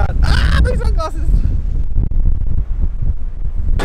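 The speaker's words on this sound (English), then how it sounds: "Hey, it's just a bit windy at the top." Gusty wind at a hilltop lookout buffets the microphone with a heavy, uneven rumble throughout. A person speaks briefly at the start over the roar.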